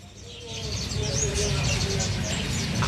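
A kacer air (magpie-robin) calls at a bird market in Palmerah, its short chirps rising over a dense bed of other birds and steady crowd murmur.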